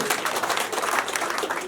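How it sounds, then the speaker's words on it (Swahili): A church congregation claps together in dense, steady applause, continuous and fairly loud throughout, with a faint murmur of voices mixed in. "Tumpe Bwana makofi."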